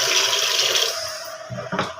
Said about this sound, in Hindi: यहाँ पे देखिए दोस्तों पानी ले रहे हैं